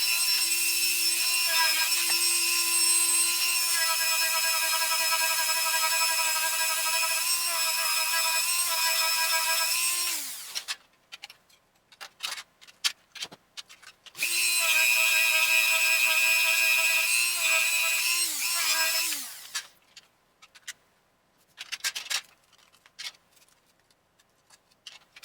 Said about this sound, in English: I'm probably going to speed this up because it's going to take me a little while with the Dremel